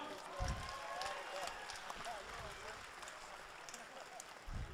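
Crowd applause and cheering at a Rise Championship fight night after the Levi Steel vs Nick Wiggett bout, a steady wash of noise with voices talking over it throughout.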